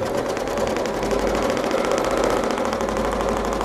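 A domestic sewing machine stitching steadily while machine quilting symmetrical arcs with an Archie ruler, giving a fast, even mechanical hum and patter that runs unbroken and close.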